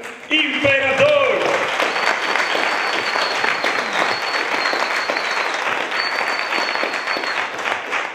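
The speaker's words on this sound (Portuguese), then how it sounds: "que eu quero que vocês recebam também com muitos aplausos, José Inácio Imperador" A live audience at a comedy show welcoming José Inácio Imperador with loud, sustained clapping, beginning after a brief spoken introduction and filling the room, with a few whistles and cheers on top.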